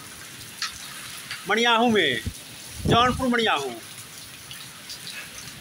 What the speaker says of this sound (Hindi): तेज गरज के साथ ओलावृष्टि एवं मूसलाधार बारिश